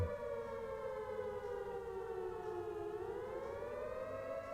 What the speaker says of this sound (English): That siren, that sound, get used to it.